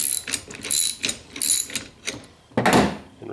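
A 9/16 ratchet turns a bolt while a single bike-rack mount is installed, giving a series of quick, close, rhythmic ratcheting clicks in repeated bursts with brief pauses, ending in a louder, longer burst.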